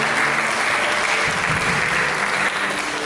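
A congregation applauds inside a church during a service, with steady, dense clapping close by and loud throughout, and no talking.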